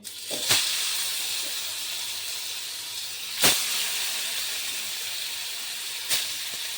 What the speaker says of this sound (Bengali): এবার আমি একে একে মাছগুলো ভাজতে দিয়ে দিচ্ছি